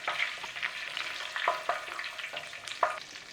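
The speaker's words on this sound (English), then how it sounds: "cashew nuts. We're going to give those a little toasting." Cashew nuts toasting in a pan give off a close, crackling sizzle, with a few louder clicks and scrapes as they are stirred around.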